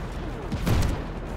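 A tank fires its main gun in the open-world action game Just Cause 3, a single deep boom with a brief rumbling tail that rises over steady background game noise.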